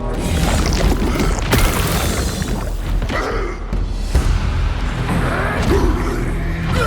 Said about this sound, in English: We have since learned how to perform the Riven Twins Plague Explosion